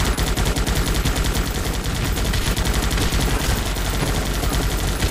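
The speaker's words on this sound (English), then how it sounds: "Because now I'm just gonna shoot these things here." Continuous rapid gunfire from the game Guns Up!, a dense, unbroken rattle of shots that stays loud and steady throughout with no pauses.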